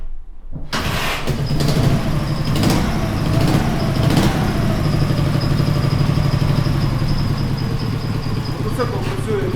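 A motorcycle engine, fitted with an LPG conversion, starts on petrol at about a second in and settles into a steady, loud idle. It runs close by without interruption for the rest of the clip.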